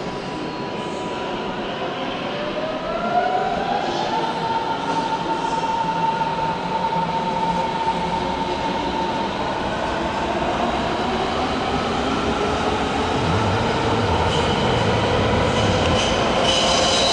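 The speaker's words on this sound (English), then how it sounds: "Meanwhile, there's an S5 service departing for Westkreuz." A Berlin S-Bahn S5 train pulling out of Hauptbahnhof, a loud steady rumble with rising motor whine and faint wheel squeal, close by and continuous with no voices.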